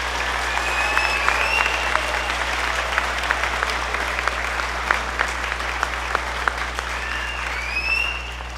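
Audience applause at a school spring concert featuring beginning, middle school symphonic and wind symphony bands, a dense, steady roar of clapping from a large crowd that holds level for the whole stretch and swells slightly near the end.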